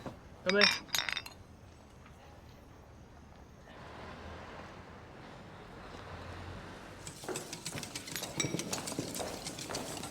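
Glasses clink together in a celebratory toast, a quick cluster of bright chimes near the start. A quieter ambience follows, with livelier sounds and voices toward the end.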